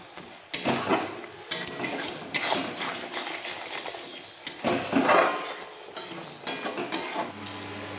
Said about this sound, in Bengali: নাও মশলাটাকে জাস্ট আমাদের খুব ভালো করে কষাতে হবে